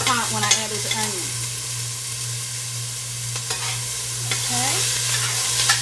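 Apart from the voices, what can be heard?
vegetables and onions being stirred and sizzling in a hot pan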